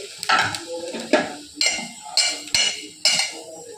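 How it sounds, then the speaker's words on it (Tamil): Vermicelli roasting in a pan after cashews, stirred with a metal spoon that scrapes and knocks against the pan in about six distinct strokes, close and clear with no talking. "இப்போ சேமியாவை வறுத்தேன்."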